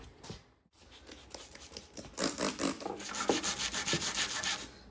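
Someone scrubs grime off an antique wooden table, making a steady rhythmic rubbing that starts lightly after a brief pause and grows louder and faster in close, even strokes.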